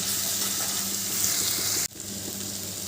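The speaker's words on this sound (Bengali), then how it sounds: "এবার গুঁড়ো মশলাগুলো ভালো করে তেলের সাথে কষিয়ে নেব" Ground spices and tomato paste sauté in hot oil with a steady, close, hissing sizzle that drops briefly for a moment, then carries on slightly quieter, with no one talking.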